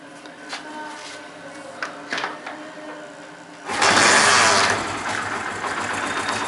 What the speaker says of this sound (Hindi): मैं आपको स्टार्ट करके दिखाता हूँ, फिर आपको ज़्यादा अच्छे तरीके से समझ आएगी।